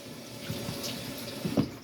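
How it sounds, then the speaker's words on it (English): Hot water running from a tap over cooked fettuccine noodles in a sink, a steady mid-level stream with a few brief louder splashes near the end. "I'm going to rinse out my noodles with some hot water"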